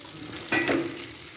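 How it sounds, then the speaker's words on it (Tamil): Leftover rice being stirred into lemon rice seasoning in a pan, a single short scraping, sizzling stir heard close against quiet kitchen background. "சாதத்தை போட்டு கிண்டிக்கலாங்க."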